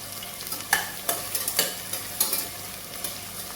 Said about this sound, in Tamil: பாருங்க, வெங்காயம் வதக்குது.